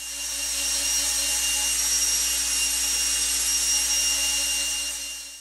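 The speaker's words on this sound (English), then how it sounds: "I use one of these attachments on my cordless drill and just make sure everything gets mixed thoroughly" A cordless drill with a mixing paddle stirs shellac-based primer inside a can, giving a steady, even whir with a faint tonal hum that holds for the whole stretch, with no talking.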